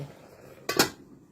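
A lid set down on a cooking pot of Thai fish curry with dok khae flowers and holy basil, giving two quick metallic clanks close by, with no talking.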